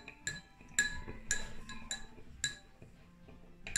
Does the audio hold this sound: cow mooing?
no